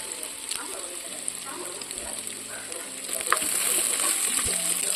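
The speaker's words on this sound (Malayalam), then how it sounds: "ഇനി താളിച്ചൊഴിക്കാനായിട്ട് ഇതിലേക്ക് വെളിച്ചെണ്ണ ഒഴിച്ചു കൊടുക്കുന്നുണ്ട്. അരിഞ്ഞ കൊച്ചുള്ളി ചേർത്ത് കൊടുക്കാം." Chopped shallots and a dried red chili frying in coconut oil as a tempering for Angamaly mango curry, a continuous bright sizzle with scattered crackles and light stirring, growing slightly louder toward the end.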